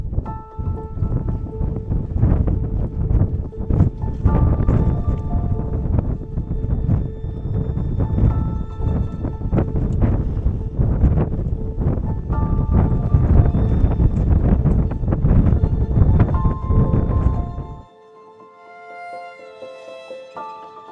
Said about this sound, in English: the wind really kicked in.